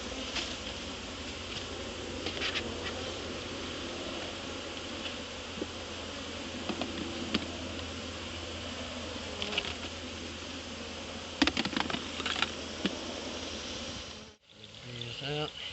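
Honeybees buzzing in a dense, steady swarm drone around an open hive during a state inspection of a heavily varroa mite damaged colony, close and continuous, with occasional light knocks and handling noises near the end.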